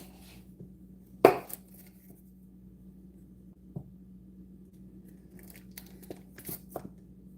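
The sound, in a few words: knife cutting sandwich ingredients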